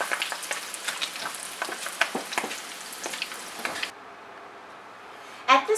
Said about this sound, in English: we'll fry these until they're golden brown